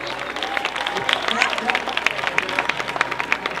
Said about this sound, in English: Please give the guests a round of applause